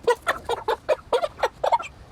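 Cornish cross meat chickens, bred from Cornish roosters and White Rock hens, clucking in quick close bursts, about a dozen short calls in a steady rhythm, loud and near with no talk.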